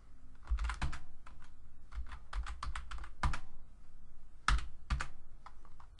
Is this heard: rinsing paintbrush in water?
no